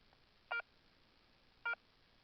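A Garrett Euro Ace metal detector switched on gives two short, clean electronic beeps about a second apart, faint against near silence.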